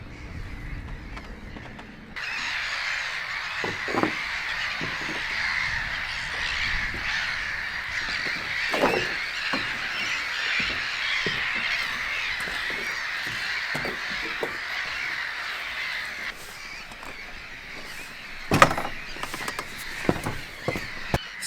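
Crows or similar large birds caw repeatedly at Hirsholmene harbour in northern Denmark, a steady outdoor chorus of calls at moderate distance over a wind-like background hiss, with a few louder calls standing out near the end.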